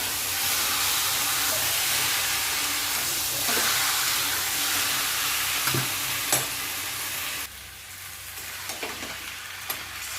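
Meat sizzles loudly in a hot pan as it is slowly fried and stirred, a constant hiss with occasional scraping knocks from the stirring, which quiets somewhat toward the end.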